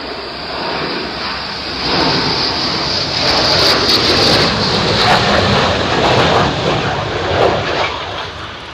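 A Blue Angels jet pulling up and flaring left in an air display gives a loud close roar that swells and surges with a hissing high whine and rumbling low end, with no voices.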